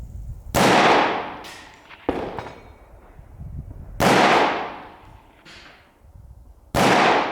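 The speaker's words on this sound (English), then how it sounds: "Third series of shots" Rifle shots from a short-version Saiga fitted with a B-33 dust cover ring out as four loud, sharp reports spaced a couple of seconds apart, each followed by a long outdoor echo, with no talking.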